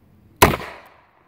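One sharp, close gunshot from an old Iver Johnson Cadet .32 long revolver fired single action, a sudden crack with a short ringing tail in otherwise quiet surroundings.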